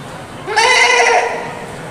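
A voice imitates a goat bleating during a religious talk, one wavering, drawn-out bleat rising in the middle of the clip, loud and close, then trailing off.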